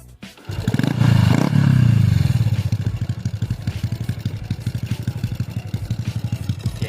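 A Honda Wave motorcycle, a 2010 model fitted out in full custom trim, starts and runs close by, its engine rising to a steady loud roar and then settling into a fast, regular single-cylinder idle putter.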